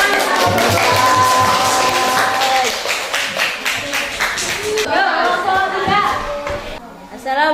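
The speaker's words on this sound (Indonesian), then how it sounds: "Kasih tepuk tangan." Students in a classroom clap together after a group presentation, a busy patter of hands that thins out while children chatter and talk over it.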